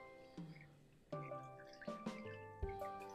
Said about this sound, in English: I'm going to squeeze all the moisture I can out